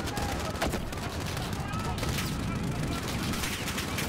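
Call of Duty: Modern Warfare battle gunfire crackles continuously in dense bursts of shots throughout, with distant-sounding rattles layered under a busy combat mix.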